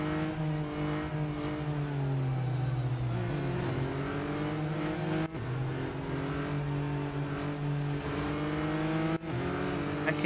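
Race car engines in the mobile racing game Real Racing 3 hold a loud, sustained droning whine that rises and falls with revving and gear shifts, several cars close together, no voices.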